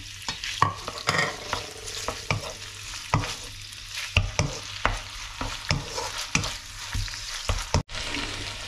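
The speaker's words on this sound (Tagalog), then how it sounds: "Sunod natin ang ating bawang. At ang ating chicken fillet." Garlic and chicken fillet frying in a pan for chopsuey, a continuous sizzle broken by frequent sharp spatula scrapes and knocks against the pan at an uneven rhythm.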